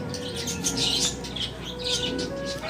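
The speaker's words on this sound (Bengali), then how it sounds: "পাখিগুলো কি সুন্দর ডাকছে।" Birds chirp and tweet in bright bursts nearby in a rooftop garden, several calls overlapping over a soft background.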